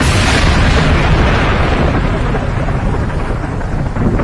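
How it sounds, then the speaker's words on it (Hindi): A deep, sustained rumble of thunder rolls loudly and steadily throughout, broad and booming without distinct breaks. "अचानक आसमान में तेज बिजली कड़कती है"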